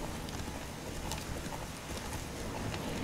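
Horse hooves clip-clop steadily along a road in the video game The Witcher 3: Wild Hunt, a continuous rhythmic patter under a dense, noisy game soundscape.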